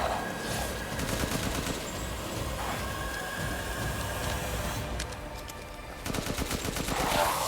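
Rapid, loud gunfire crackles almost nonstop in a Resident Evil Village firefight, with dense bursts of automatic shots, a brief lull near the end, then another sharp volley.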